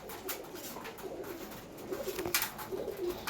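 Pigeons in a loft cooing softly at feeding time, low rolling coos repeating under rustling and scattered bright clicks, fairly faint and close.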